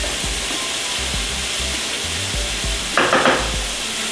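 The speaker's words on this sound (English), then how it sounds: "And give this a little stir." Beef stroganoff with mushrooms sizzling loudly in a pan, a constant dense frying hiss with soft low stirring thumps and a brief brighter rattle of the utensil near the end.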